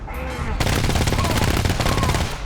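Heavy, sustained automatic gunfire from a co-op horror shooter, GTFO, bursting in after a brief quieter lead-in and hammering on loudly and rapidly for the rest of the stretch.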